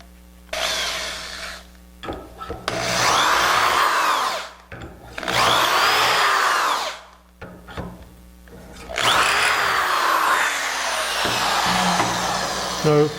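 A power drill bores dowel holes in wood in three long, loud bursts separated by short pauses. Each burst has a whining, grinding tone close by.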